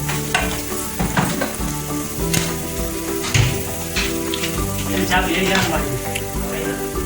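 Cumin and red chilies frying in oil for a brown masoor daal, a loud continuous sizzle close up with stirring and scraping in the pan, over a faint tonal background.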